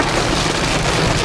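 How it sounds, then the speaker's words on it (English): Rain falling during a sun shower, a steady dense hiss of drops on surfaces, loud and close with no voices. "It just started raining again."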